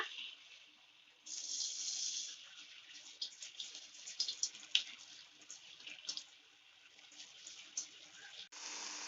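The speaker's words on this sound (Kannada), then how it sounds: "ಈಗ ಒಂದೊಂದಾಗಿ ನಾವು ಈ ಡಿಪ್ ಮಾಡಿರುವಂತಹ ಕಾರ್ನ್ ಅನ್ನ ಎಣ್ಣೆಗೆ ಹಾಕೊಳ್ಳೋಣ" Corn dipped in batter frying in hot oil, heard as a steady bright hiss and crackle with small popping bursts, close and fairly loud throughout, with a brief break near the end.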